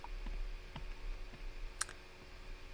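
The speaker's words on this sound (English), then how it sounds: "So you can kind of hear those weird clicking sounds" A failing hard disk drive clicks faintly: a few sparse ticks over a steady mechanical hum, with one sharper click near the end.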